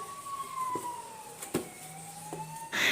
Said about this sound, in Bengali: অ্যাম্বুলেন্স গেল সাউন্ডটা যাচ্ছিলো বলে আমি ওখানে অফ করলাম